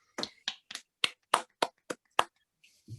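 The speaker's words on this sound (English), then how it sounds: "Can I make sure we all give a round of applause" A small round of applause at a Winchester creative networking event: about eight sharp, separate hand claps in an uneven rhythm, close and fairly loud, ending with a faint low thump.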